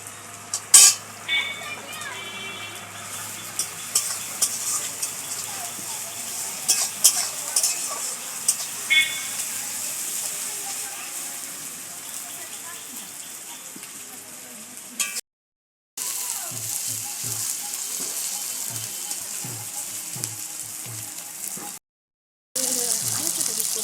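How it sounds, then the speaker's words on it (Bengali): Ginger garlic paste is stirred into frying onions in a pan for chicken bhuna, with steady sizzling, spoon scrapes against the pan, two brief gaps of silence and a voice talking at points. "এবারে পেঁয়াজের মধ্যে দিয়ে দেবো আদা রসুন বাটা।"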